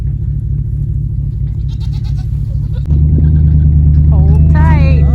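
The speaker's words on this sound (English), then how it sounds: "Larry has to move the trailer" A vehicle engine rumbles steadily as it moves a hay trailer on a farm, growing louder about halfway through, with goats bleating nearby toward the end.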